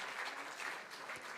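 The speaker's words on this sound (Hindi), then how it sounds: "तालियों की गड़गड़ाहट हो आप सबकी तरफ से।" Audience applause at a government appointment letter distribution ceremony in Jharkhand, a brief, even patter of many hands clapping at moderate distance, with no speech.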